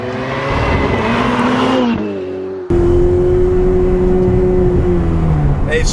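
A Ferrari 488 Pista's engine and exhaust sound out while driving: a loud, droning engine note that briefly drops and softens, then surges back to a strong, sustained roar.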